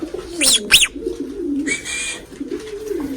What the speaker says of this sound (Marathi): ते बघा एकशे एक कबूतर आहेत मित्रांनो